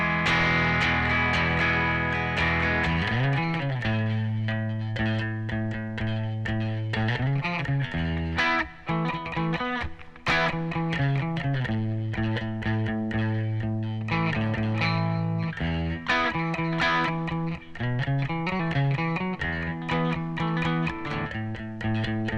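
Electric guitar plays loose rhythm parts, chopping out chords and riffs with an effects-coloured tone, clear and alone with short pauses between phrases.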